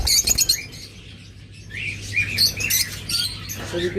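A lutino opaline pet bird pair, budgerigars or cockatiels, calls with bright chirps and squawks in short bursts, close by over a low steady hum.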